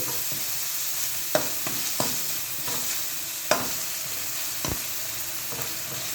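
Tomato roasting in a pan for bachelor-style uppitu, a steady hissing sizzle running throughout with occasional sharp clicks of a spoon against the pan, near and moderately loud, no voices.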